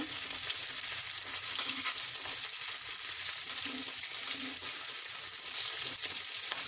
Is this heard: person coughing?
no